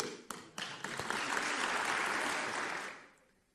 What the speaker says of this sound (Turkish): Sanırım bu alkışlar sözü aldığımızın garantisidir.